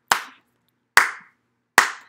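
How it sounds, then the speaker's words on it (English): Three crisp, separate hand claps at an even, slow rhythm during a children's story time, each sharp and close with a short decay and silence between. "We're gonna clap."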